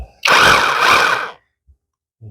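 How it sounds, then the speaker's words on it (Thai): A HORY cordless rotary hammer drill runs alone for about a second in one loud, close, buzzing burst, then stops abruptly into near silence. "มีเจาะ เจาะเจาะธรรมดา เจาะกระแทกนะเจาะกระแทก"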